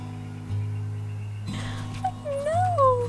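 A dog whimpers in high, wavering whines that rise and fall near the end, close by, over a steady low engine-like hum inside a vehicle.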